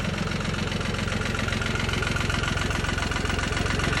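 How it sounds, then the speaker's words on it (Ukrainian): The diesel engine of a Jinma 404 four-wheel-drive tractor idles steadily with an even, rapid low chugging throb, loud and close, with no voices. "Моторчик шепче ідеально."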